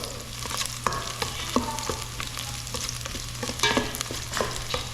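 Seasonings sautéed in a pan, a steady close sizzle and frying crackle with spatula stirring scrapes and clicks throughout, no talking.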